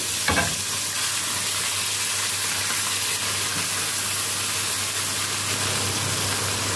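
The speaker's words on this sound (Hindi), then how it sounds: "चिकन को भूनेंगे ताकि इसका कच्चापन खत्म हो जाए" Chicken with chopped garlic and vinegar frying in a pan for red sauce pasta, giving a steady, close, continuous sizzle that holds at an even level throughout, with faint stirring scrapes over it.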